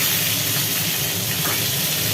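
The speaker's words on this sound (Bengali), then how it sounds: "তেল গরম হয়ে যাওয়ার পর তেলে পড়ছে পটল এই পটলগুলো ভাজা হবে একদম আস্ত পটল" Whole pointed gourds (potol) frying in hot oil in a pan, a loud steady broadband sizzle and hiss close up, with no voices.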